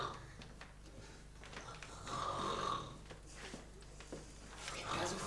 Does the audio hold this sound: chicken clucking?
no